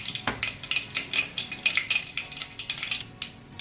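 Mustard seeds and cumin sizzling in oil for Maharashtrian moong dal rice, heard as a close series of quick crackling pops and spatters in an uneven, bursty rhythm, with faint clinks of a spoon or pan.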